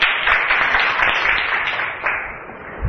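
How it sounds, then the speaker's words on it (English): A classroom of children claps for themselves, producing a dense, steady patter of many hands that holds for a few seconds and slowly fades. "Clap for yourself."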